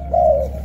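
A pet songbird gives one short, clear whistled note at close range, steady and pure, over a low background hum.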